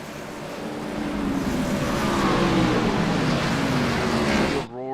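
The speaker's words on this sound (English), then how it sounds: "Field roars around turns 3 and 4 behind that iRacing pace car" A field of stock cars in the iRacing video game at Daytona rounds turns 3 and 4 behind a pace car, with a loud, sustained, droning engine roar that swells and holds before a car sweeps past.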